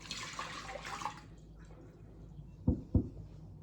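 Two cups of warm water poured into a bowl, a soft splashing pour at first that fades, then two short sharp drips or splashes near the end.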